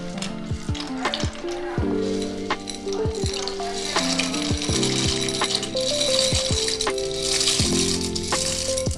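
Dry macaroni rattles and clatters as it pours into a pot, over a steady bubbling sizzle of boiling water.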